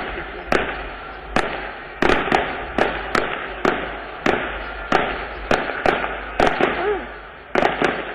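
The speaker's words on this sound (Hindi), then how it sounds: "शायद पटाखे बहुत छूट रहे हैं" Firecrackers burst one after another in a busy outdoor celebration, sharp loud pops every half second to second over eight seconds, each with a short rumbling tail, against a steady background din.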